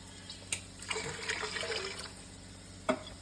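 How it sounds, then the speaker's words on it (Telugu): Water is poured into basmati rice in a pot for prawn biryani, a short splashing fill that rises and fades over a steady background hum, framed by a couple of sharp clinks. "ఇందులో సరిపడా వాటర్ పోసుకుందాం"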